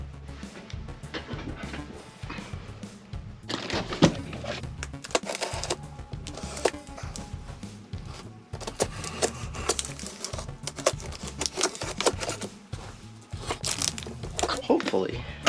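Packaging for a Roland Go:Keys 5 keyboard being cut open with scissors at a table, with repeated crinkling, tearing and rustling bursts that run unevenly throughout, close and moderately loud.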